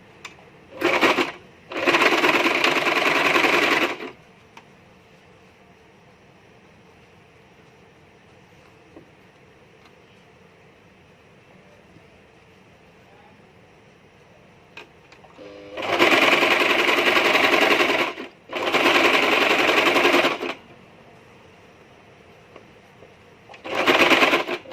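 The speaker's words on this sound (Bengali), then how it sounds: "এই জায়গায় সেলাই করবো" Sewing machine stitching cloth for a neck design, in loud bursts: two short runs at the start, a long quiet gap, then three more runs near the end.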